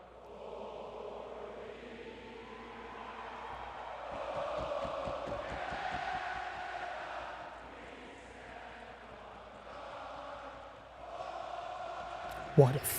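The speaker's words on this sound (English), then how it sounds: "This crowd is insane." A hockey arena crowd roars through a playoff game between the Oilers and Panthers, a broad, distant, sustained din that rises and falls, heard under a nearby voice talking.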